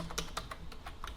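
Quiet clatter of typing on a computer keyboard, a run of irregular key taps over about a second, close and dry with no voice.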